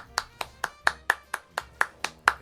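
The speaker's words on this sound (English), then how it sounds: "I think that deserves a round of applause" About ten slow, evenly spaced hand claps, crisp and isolated like a single person clapping, sounding fairly close over a quiet background.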